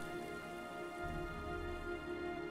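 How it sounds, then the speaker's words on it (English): Rain pours steadily in the video game Heavy Rain, a continuous hiss of falling water with a low rumbling layer joining partway through, under a faint tonal music hum and with no talking. "It's raining."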